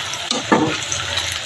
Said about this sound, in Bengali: এই যে বেরেস্তা ভাজা হচ্ছে।